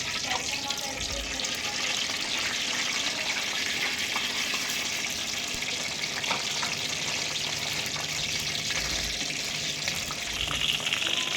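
Hot oil sizzling as spices are tempered for a sweet mango-ginger pickle, a steady dense crackle and hiss that holds for about eleven seconds, with a voice talking over it.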